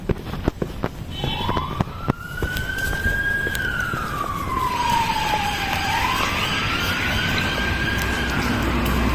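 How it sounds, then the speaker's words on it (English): An emergency vehicle on a blue light run sounds its siren, a wailing tone rising and falling over steady traffic rumble, moderately distant and loud, alone without talking. "Looks like, sounds like that chap was heading out on a blue light run."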